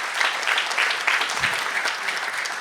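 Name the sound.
applause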